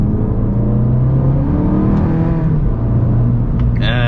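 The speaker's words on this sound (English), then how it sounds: "And it accelerates really good, really good" An Abarth 695 Edizione Maserati pulling hard in second gear after a downshift, its small engine note climbing steadily in pitch, loud and close from inside the cabin, ending with a brief higher whine.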